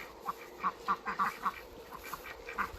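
Several quiet, nasal duck quacks on a farm in quick irregular succession, somewhat distant against a soft background hiss.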